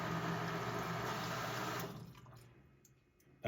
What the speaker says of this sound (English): That was the condenser pump.